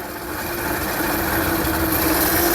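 A car alternator rigged as a bicycle motor runs up, giving a steady whining electric-motor hum with a constant tone and a rising, gritty mechanical drone as it accelerates.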